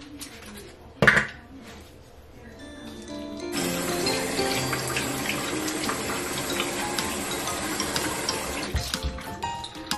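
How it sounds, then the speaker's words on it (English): Tap water runs steadily into a sink while a face is wetted at the start of a morning skincare routine, splashing for several seconds after a brief knock and ending abruptly. A bird coos faintly in the background. "Just wet your face first."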